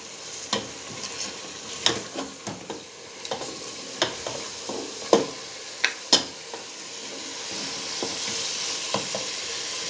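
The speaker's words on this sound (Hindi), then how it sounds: "लहसुन अदरक फ्राई हो गया" Garlic ginger paste frying in a pan for haleem, with a sizzle, scattered clinks and scrapes of stirring, steady hiss underneath, no talking.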